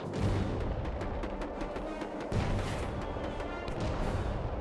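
Soviet artillery guns in the World War Armies video game fire in a dense, continuous barrage, with sharp blasts layered over a heavy, steady rumble of battle noise.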